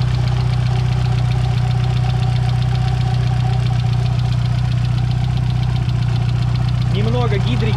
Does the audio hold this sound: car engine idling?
yes